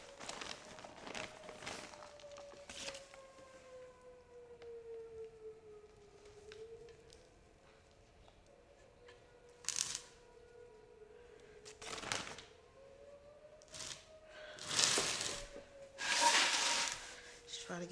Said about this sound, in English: Our sirens are going off.